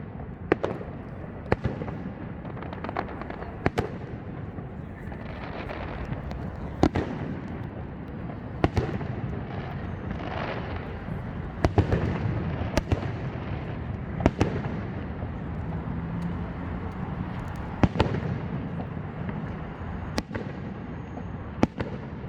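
Fireworks display with a rapid series of sharp bangs and crackling bursts, some loud and close, others softer, over a continuous rumbling wash, with no talking.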